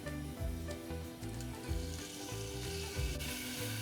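Hot oil for a Myanmar pomelo and shrimp salad sizzles quietly in a pan when tested, a soft steady crackle with low rhythmic scraping underneath, fairly faint and close, no talking.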